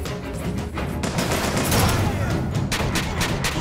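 Rapid carbine gunfire from the video game Bioshock Infinite, loud and dense, with bursts of shots running through the whole stretch over a steady game soundscape.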